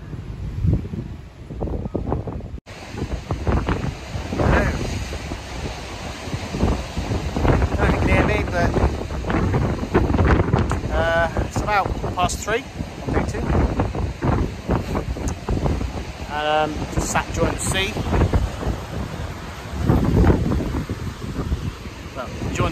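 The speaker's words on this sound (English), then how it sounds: "it is really windy here" Strong wind by the sea in North Devon buffets the microphone throughout, roaring and gusting, while a person talks over it.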